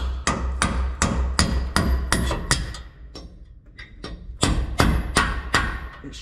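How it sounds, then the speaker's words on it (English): Hammer striking a center punch to drive a key out on an LBZ Duramax, sharp metallic taps in a fast, steady series, a brief pause midway, then more strikes, close and loud with no talk. "You just have to tap that out with the hammer."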